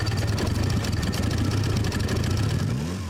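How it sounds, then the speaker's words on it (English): High-mileage Mitsubishi Evo 8 at 210,000 miles, its engine running with a rough, pulsing mid-pitched drone, loud and close, fading slightly at the end with no talk over it. "The engine actually does kind of run."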